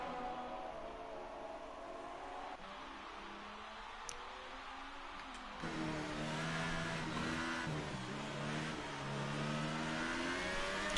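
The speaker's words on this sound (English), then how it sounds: "you can hear Lewis's car screaming" Lewis's Formula 1 car screams through the Japanese Grand Prix in a PS4 racing game, a continuous high engine whine that rises in pitch and grows louder partway through, with no voices.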